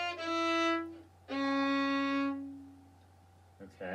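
A cello plays the opening notes of the Harry Potter main theme as a step-by-step lesson demonstration, with two sustained bowed notes, the second longer, then a held lower note, alone in a quiet room.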